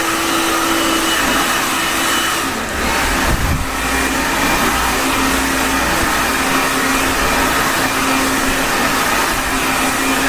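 A blow dryer runs steadily at close range as a continuous loud whoosh, with a brief dip in airflow partway through; no one speaks over it.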